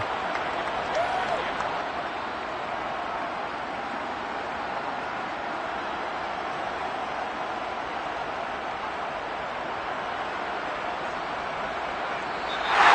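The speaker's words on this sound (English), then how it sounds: "And the home crowd applauding." A home crowd applauding during a Chiefs vs. Raiders football video game, with steady, dense clapping and crowd noise holding at an even level for the whole stretch and swelling slightly at the very end.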